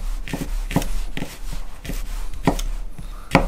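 A kitchen knife chops garlic in a series of about seven crisp, sharp knocks at an uneven pace, close up and with no other sound.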